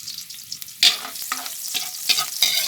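Garlic sautéing in a pan for ginataang pakak, a steady broadband sizzle broken by sharp bursts as the cloves are stirred and turned, close and moderately loud with no voices.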